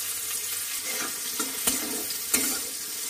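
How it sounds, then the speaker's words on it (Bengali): Chopped onions and whole garam masala frying in hot oil for a prawn potato curry, a steady close sizzle broken by a few sharp stirring scrapes near the middle and end. "পেঁয়াজটা আমি লাল লাল করে ভেজে নেব"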